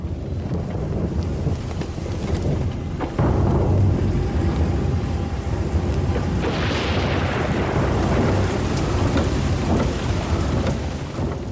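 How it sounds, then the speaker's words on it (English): Heavy monsoon rain in Cambodia pours down in a dense, steady roar with gusts of wind buffeting the microphone and deep rumbling throughout. "And then the most heavy monsoon rain."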